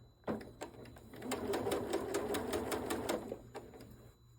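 A sewing machine stitching a curved quilt block, starting with a few separate clicks, then running in a steady close mechanical chatter for about two seconds before slowing back to single clicks.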